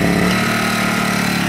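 Small generator engine running steadily with its choke left on, a loud, even drone that never revs up.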